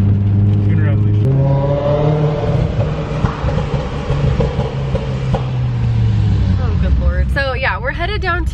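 A Mitsubishi Lancer Evolution tuner car drives on the highway, its engine droning steadily from inside the cabin with a shift in pitch early on, while people talk over it.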